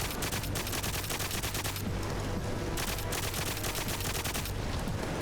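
Dense, continuous gunfire in 007 GoldenEye Reloaded, rapid automatic bursts rattling nonstop at steady high volume for the whole stretch, with no talking.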